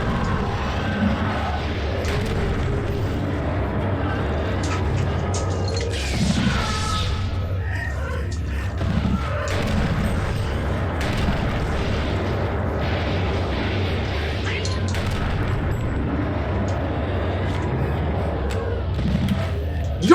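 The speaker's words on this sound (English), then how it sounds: "Here, let's show off the grenades." Grenade blasts and gunfire in the video game Eternal Darkness make a dense, continuous roar of booming explosions, with a few sharper bursts near 6.5 and 9 seconds.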